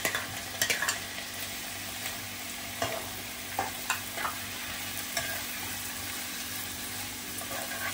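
Chopped tomatoes are stirred into a hot pan for a prawn rice dish, giving a steady soft sizzle with occasional scraping strokes of the spoon, close and continuous.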